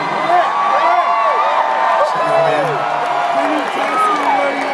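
A concert crowd at a show in New Jersey, dense cheering, whooping and clapping sustained loudly throughout, with shouts rising from the mass of voices.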